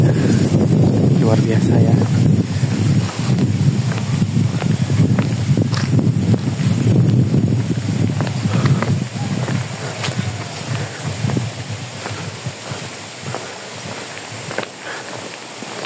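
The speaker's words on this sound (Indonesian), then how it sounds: "Dan anginnya cukup kencang." Strong wind gusts over rice terraces in a Bali village, buffeting the microphone with a rough roar that eases toward the end, while a person speaks and footsteps scuff along a path.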